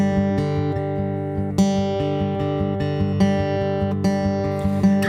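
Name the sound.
guitar fingerpicking pattern for worship music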